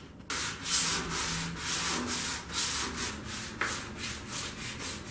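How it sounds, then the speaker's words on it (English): Close, steady hand sanding with a sanding block on primed metal of a 1965 Jeep CJ5: rhythmic back-and-forth rubbing strokes, roughly two per second, with a dry, gritty hiss and no voices. "I finished up sanding all of this."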